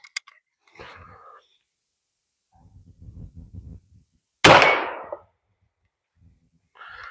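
A Norinco JW83 12 gauge shotgun fires a single 45 ACP round through a sub-caliber insert, one sharp close report with a short decaying tail, between quiet handling noises and brief murmurs.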